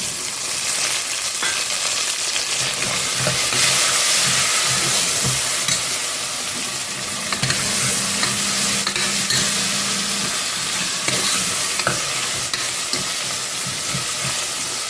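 Chopped tomatoes dropped into sautéed onions in a pan for Tamil-style chicken curry, a loud continuous sizzle and hiss with scraping stirs, close up and without talk.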